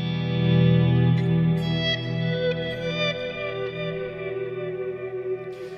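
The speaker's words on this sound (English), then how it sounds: "If I play like a big chord, now I'm gonna put another delay and reverb." An electric guitar rings out a big strummed chord through delay and reverb effects, swelling loud at first and then trailing off in a long, shimmering wash with a couple of faint pick clicks.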